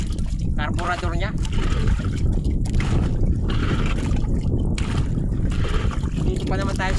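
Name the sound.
small boat engine running on the water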